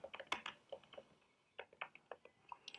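Irregular bursts of keystrokes on a computer keyboard, close and fairly quiet, clustered in quick runs with a short pause in the middle, no talking.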